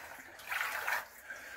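Clear drinking water flowing through the stone channel of Raven's Well water conduit in Bristol, a soft steady running rush that swells briefly louder midway, close by in an enclosed space.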